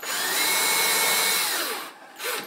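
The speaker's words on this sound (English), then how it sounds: "I put the drill into the hole" Power drill boring a pilot hole in wood during homestead kitchen storage building: a steady whining motor hum for under two seconds, then spinning down, brief pause and a short restart.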